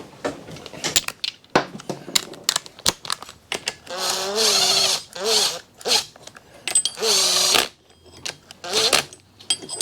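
A half-inch tool snugs the clutch bolts on a Sportster Evo motorcycle, making quick ratcheting bursts and metallic clicks in a close, uneven rhythm, with scattered clinks of parts between the runs.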